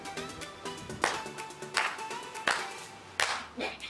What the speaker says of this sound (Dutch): we gaan even langzaam klappen, de slow clap